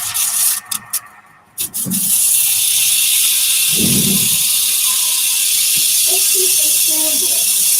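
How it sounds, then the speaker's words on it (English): A spalted peppercorn wood bowl is sanded with a power sander, a steady broadband hiss that runs continuously after a few brief stops and starts, with occasional low thumps and faint voices. "I'm just going to start sanding again"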